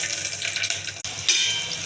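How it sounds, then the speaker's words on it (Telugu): Tamarind water pours into a cooking pot for dal, a steady close liquid splash and trickle running throughout with a brief break near the middle, no talking. "కొద్దిగా చింతపండు వాటర్ వేస్తాను."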